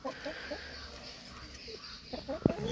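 Chickens cluck softly in short, scattered bursts close by, with a louder squawk near the end over a quiet background.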